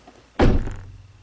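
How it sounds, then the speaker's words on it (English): Driver's door of a 2017 Chevy Trax swung shut with a single solid, close thunk, its low rumble decaying over a fraction of a second. "First open, then close driver's door."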